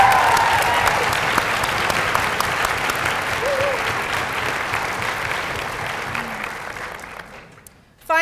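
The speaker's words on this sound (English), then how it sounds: "Let's give them a round of applause." A room full of people at a veterinary white coat ceremony claps warmly and steadily, the applause gradually thinning out and fading to near silence at the end.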